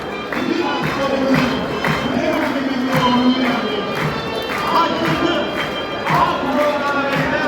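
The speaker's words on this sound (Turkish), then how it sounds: "Tarihi Kırkpınar Meydanı'nda büyük bayrak geçişi ayakla alkışlanıyor." Crowd in the historic Kırkpınar oil-wrestling arena as the big Turkish flag is carried past, a dense roar of voices and rhythmic clapping with steady thumps, loud and continuous under a commentator's voice.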